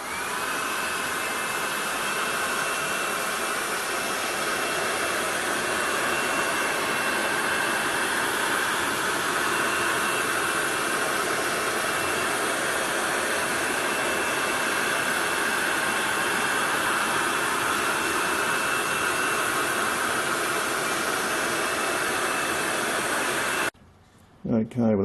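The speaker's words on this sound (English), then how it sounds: "now I'm going to heat it with the hairdryer" A hairdryer blows hot air onto a part of a Honda EX650 generator, a loud, steady, close whoosh that runs without a break until it cuts off abruptly near the end.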